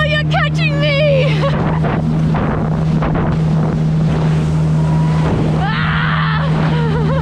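Jet ski riding on water with wind buffeting the microphone and splashing waves, a steady engine drone running throughout while excited voices shout and squeal over it.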